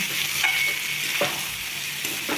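Chicken curry is stirred in a pan over a high flame, with spoon scrapes sweeping through a steady close sizzle. A few distinct strokes stand out and no one speaks.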